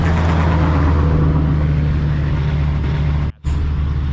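Heavy truck traffic roars past on a busy state route highway beside a rural vineyard property, a loud continuous rumble with one vehicle's pass dominating and a brief dropout near the end.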